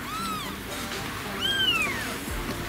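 Newborn kittens, two days old, give high rising-and-falling meows, one near the start and a louder one midway, over a faint background with no talk.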